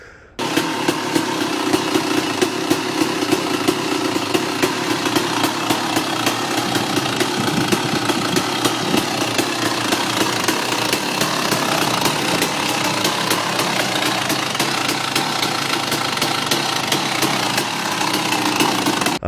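A dirt bike fitted with an FMF Fatty exhaust runs steadily, its rough, rapid-firing engine loud and close throughout, with no voices over it.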